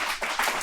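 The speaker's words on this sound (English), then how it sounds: "Clap it up, clap it up." Live studio audience clapping, a brief burst of dense, fairly faint applause with a few sharper hand claps rising near the end.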